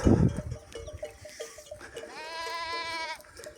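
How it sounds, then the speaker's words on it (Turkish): A grazing sheep lets out a long, wavering bleat close by, preceded by rustling and a thump, with faint clanking in the background. "Koyun böyle yaylıken baya bir ses geliyor."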